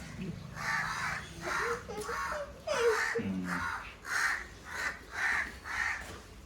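A crow caws repeatedly in a steady series of harsh, evenly spaced calls, fairly close, with faint voices briefly audible beneath the first few calls.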